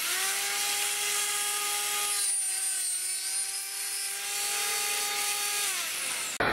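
A power saw cuts a channel along PVC pipe with a steady, high, tonal motor whine and strong harmonics. The whine dips slightly midway and cuts off abruptly near the end.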